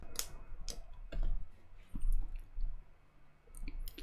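A computer mouse clicks several times in an irregular pattern, sharp close taps separated by short pauses over a faint background, with no talking.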